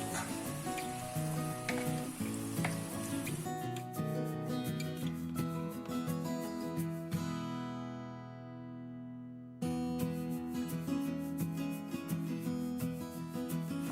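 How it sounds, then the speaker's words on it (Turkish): Steady crackling sizzle of zucchini and onions sautéing in a pan, continuous and close, with music playing over it and no talking. "Kabaklarımı da birkaç dakika boyunca yine soğanla beraber kavurmaya devam edeceğim"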